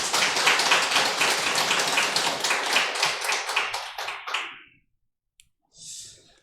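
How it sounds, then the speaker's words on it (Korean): A church congregation claps together in a dense, steady burst of applause, loud and close, then thins to a few last claps and falls silent about four and a half seconds in, followed by a brief soft rustle. "우리 하나님께 영광의 박수 올려드리겠습니다."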